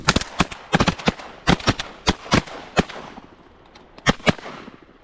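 Rapid volleys of shotgun blasts fired at teal ducks while duck hunting over decoys in Nicaragua, a dozen or so sharp, loud reports in quick bursts with echoing tails, then a pause before two final shots.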